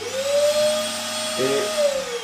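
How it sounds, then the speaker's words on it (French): A workshop vacuum cleaner, used for extracting sawdust, runs with a loud, steady whine whose pitch shifts briefly partway through. "comme ça j'allume l'aspirateur"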